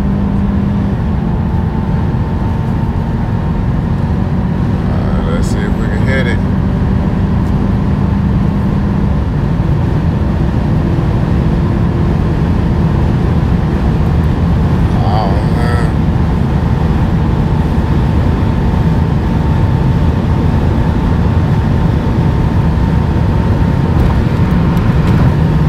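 Inside a 2021 Kia K5 GT-Line accelerating on a night drive, a loud, steady low engine and road drone fills the cabin, with faint passing sounds and a couple of brief clicks.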